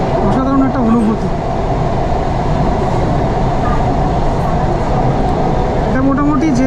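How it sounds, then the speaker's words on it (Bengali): A Kolkata Metro train on the Howrah–Esplanade line runs through the underwater tunnel beneath the Ganges with a loud, steady roar and rumble that fills the whole stretch. Faint voices can be heard inside the carriage. "এটা মোটামুটি যেতে এই গঙ্গার তলা থেকে পাস করতে 46 সেকেন্ড হয়ে গেল"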